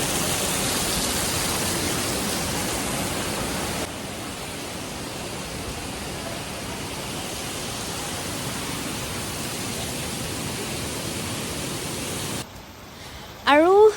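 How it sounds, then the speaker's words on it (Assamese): Heavy rain falls on a visit to a spot in Guwahati as a dense, continuous hiss that drops slightly in level partway through, then gives way near the end to brief handling noises. "আৰু এইদৰে বৰষুণ দি আছে"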